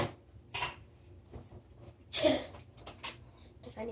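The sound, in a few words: fake sneeze imitated by a voice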